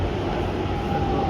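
A Pune metro train pulls into the station with a steady low rumble of rail noise, and a faint high whine rises near the end.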